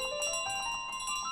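A small hand bell rung outdoors in a garden, a steady bright ringing with overlapping jingling strikes, close and clear with no talk over it.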